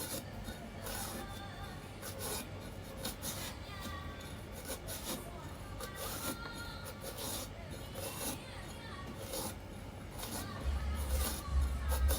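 Green papaya being scraped and shredded by hand for Thai-Lao papaya salad, a steady continuous rasping that runs throughout with faint background voices.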